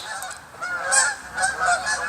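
Several geese honk in a loose overlapping series, moderately loud and somewhat distant, with soft outdoor background noise between calls.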